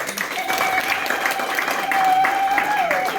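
Audience applause at the installation ceremony of a Netherlands sub-section, a steady wash of clapping filling the short stretch at moderate loudness, with a faint sustained tone running underneath.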